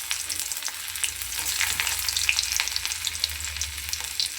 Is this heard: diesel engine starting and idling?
no